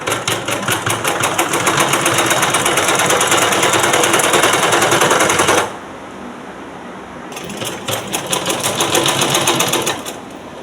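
A sewing machine stitches a blouse in fast, loud, even bursts of needle rattle, pausing briefly midway before running again, close up.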